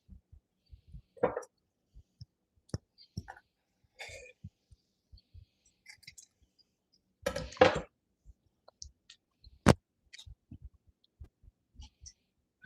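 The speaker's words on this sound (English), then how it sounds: "just cut this in strips." Knife chopping food into strips on a cutting board, sparse soft thuds and taps at an irregular pace with a few sharper knocks, close by and otherwise quiet.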